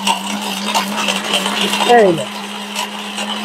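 An Orpat high-power blender grinds spice paste with a steady motor hum, while a person talks over it in Bengali throughout.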